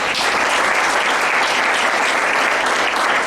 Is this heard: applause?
yes